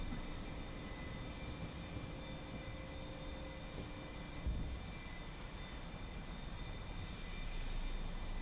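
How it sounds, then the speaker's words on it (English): A flight-simulator airliner's engine drones steadily through takeoff: a continuous, even roar that holds at the same level throughout, with only a faint bump partway through. "Alright, let's take off."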